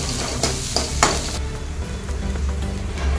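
Cabbage sautéing in Amul butter for lemon coriander soup, a loud close sizzle with several sharp stirring scrapes early on, then a steadier frying hiss, no voices.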